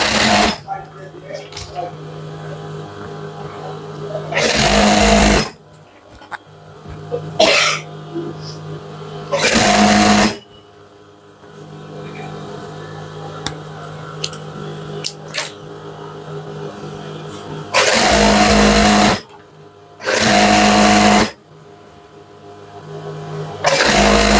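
A sewing machine stitches a Punjabi garment during body fitting, running in several loud bursts of a few seconds each, with quieter stretches of handling and a voice between runs.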